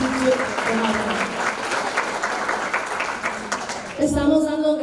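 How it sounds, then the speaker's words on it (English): Gala audience at a Hispanic scholarship fund event clapping for the sponsors, a full, steady applause that runs under a voice starting to speak near the end. "A round of applause, please, for all of our sponsors."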